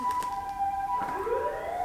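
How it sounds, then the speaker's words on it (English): An ambulance siren passes by, its steady tone bending downward in pitch as the vehicle goes past, heard at moderate distance over road noise with no talk. "We wait for the ambulance to pass."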